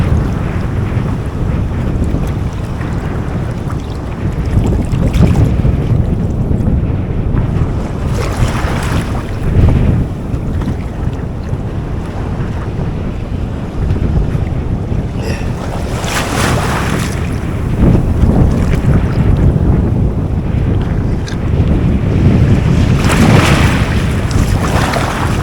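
Waves slapping against a small boat while stiff wind buffets the microphone on open water during a permit fishing trip, a loud continuous rush with repeated surging splashes and no voices.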